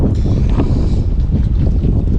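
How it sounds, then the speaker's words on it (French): Steady wind roars across the microphone in a harbour at Alcudia, a loud continuous buffeting rush with low rumbling gusts filling the whole stretch. "il y a du vent encore"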